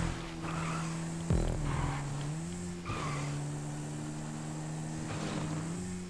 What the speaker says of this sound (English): it sounds like a four-stroke, too, instead of a two-stroke